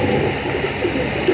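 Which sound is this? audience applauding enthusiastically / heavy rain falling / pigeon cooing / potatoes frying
pigeon cooing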